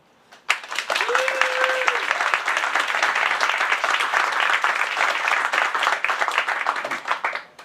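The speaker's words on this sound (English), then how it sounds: "Please clap if you think, yes, wokeness is killing comedy." Audience at a comedy debate clapping to cast a vote, a burst of dense applause that starts abruptly, holds steady for several seconds and then tapers off, with a faint voice near the start.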